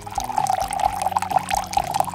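Water runs steadily from a toy sink tap, a close, continuous trickle with a soft bubbling texture and gentle music underneath.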